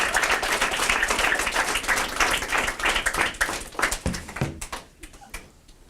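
An audience at a Denver youth book event claps and applauds steadily, dense hand-claps filling the room before thinning into scattered claps and fading toward the end.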